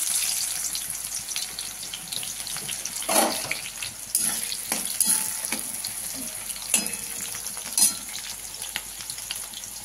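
Chopped onions fry in hot oil for stuffed pointed gourd, a steady close sizzle broken by several sharp bursts of stirring and scraping in the pan, with no talk.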